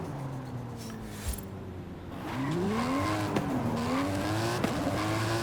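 Race car in Forza Horizon 5, the engine droning and then climbing in pitch as it speeds up, with some tire noise, steady and up close.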